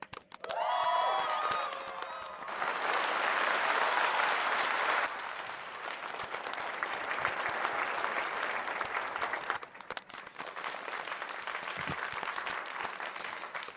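Audience applause fills the room, loud at first, then settling into steady, slightly thinner clapping that carries on for over ten seconds.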